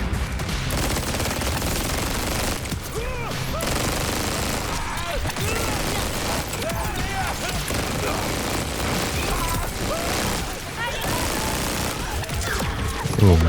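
A Vladof weapon in Borderlands 4 fires very rapidly in a continuous, dense stream of gunshots with explosive bursts mixed in, loud and nearly unbroken for many seconds, while a player talks excitedly over the action.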